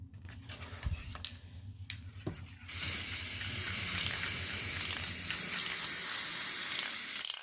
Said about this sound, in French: appliquer le spray d'abord recto